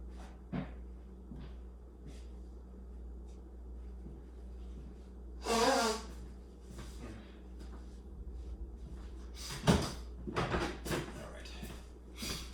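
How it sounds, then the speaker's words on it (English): A person troubled by tree pollen blows their nose in a quiet room with a low steady hum: one loud, breathy blast midway, then a second sharp blow and some snuffling. "I have to blow my nose"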